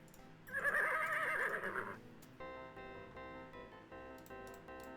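Horses whinny in the Sierra video game Freddy Pharkas: Frontier Pharmacist, a loud trembling neigh followed by a tinny, layered game tune and faint hoof clip-clop.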